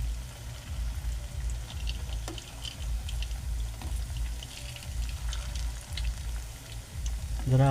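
Bottle gourd bhaji fritters frying in hot oil, a dense, even crackling sizzle that holds steady and fairly close throughout.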